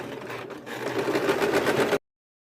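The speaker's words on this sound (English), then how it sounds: "I'm just going to top stitch it." A sewing machine top stitching the neck seam of a T-shirt, a steady rapid mechanical whir with a brief pause near the start, stopping abruptly after about two seconds.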